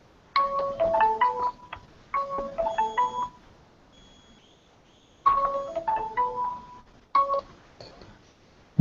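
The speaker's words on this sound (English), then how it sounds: "They will give a call, so we have to stop. It will be ringing everywhere." A telephone plays a melodic electronic ringtone in short repeated bursts of bright tones separated by brief silences, close and clear with no talk over it.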